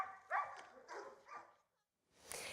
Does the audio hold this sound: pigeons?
no